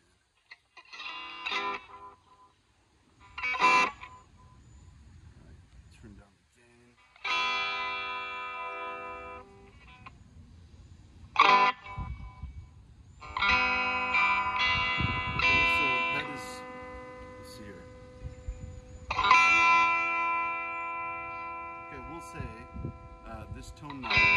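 A Donner DST-200 electric guitar rings out through a reverb effect in strummed chords and single ringing notes, each burst decaying into a wash of echo between short pauses, close and fairly quiet.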